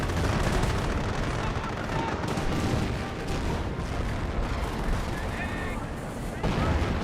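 Sniper fire in the Company of Heroes video game, set inside a loud, continuous battle soundscape of gunfire and artillery, with a voice talking underneath.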